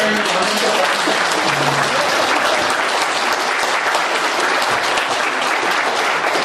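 Applause rises from an audience at a lecture's discussion session, a thick, continuous wash of many hands clapping at an even level for several seconds, nearby and unbroken by talk.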